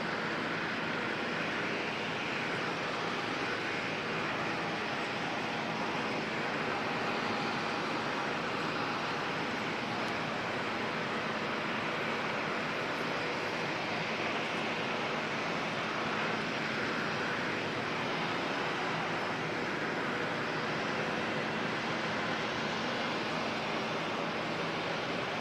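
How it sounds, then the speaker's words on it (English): A black-livery Airbus A320 departing Auckland for Wellington, its engines a broad, sustained roar that stays loud and steady throughout, with no one speaking. "Black livery A320 heading off down to Wellington as NZ417."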